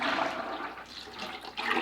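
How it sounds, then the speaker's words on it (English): Melted palm oil for soap making pours into a container with a continuous close gurgling, splashing liquid sound lasting under two seconds, no talk over it. "Here's the next batch of oil that I poured off. I'm going to pour that in"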